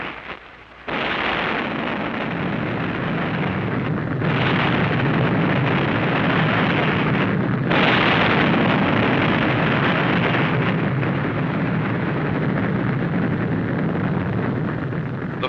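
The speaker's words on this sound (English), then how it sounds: "The fire raged as bombs, rockets, and small caliber ammunition continued to explode with increasing violence." Bombs, rockets and small-caliber ammunition exploding aboard the burning aircraft carrier USS Franklin in 1945, a dense, loud, continuous roar of blasts on old film sound, with a sudden heavy onset and brief dips between surges.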